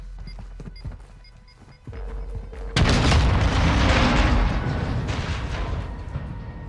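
A planted charge detonates in Modern Warfare II: a sudden loud, close boom erupts and then rolls on as a broad, sustained rumble with debris that slowly fades. A lower thud comes just before it.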